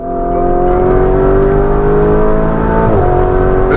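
A Lamborghini Urus SUV accelerates hard, its engine note rising steadily into a loud, close, sustained roar with a brief dip near the end as it shifts.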